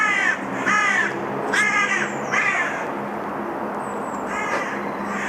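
Crows cawing along a narrow cobbled lane in Glasgow, a series of harsh, repeated caws in quick bursts, fairly close and loud over a steady background of outdoor hum.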